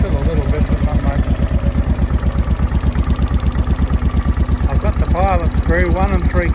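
Honda Deauville NT650V motorcycle from 2005 idling steadily at about 1,000 rpm with a little choke still on, a close, even throbbing pulse throughout while someone talks over it.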